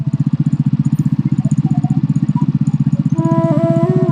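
A motorcycle rides along a road past farm fields, its loud, close engine thumping in a fast, steady rhythm that rises slightly in pitch near the end, with no talking.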